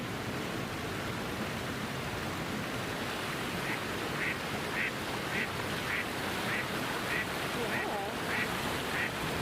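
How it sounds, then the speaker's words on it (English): Ducks by the water give a series of short, faint quacks spaced a second or so apart, half-buried in a steady wash of outdoor noise and wind. "she's watching these ducks."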